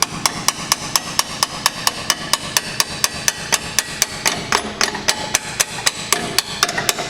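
A hammer taps metal to drive out a rusted, seized camber bolt, in a steady, fast rhythm, about three blows per second, loud and close, continuing without pause.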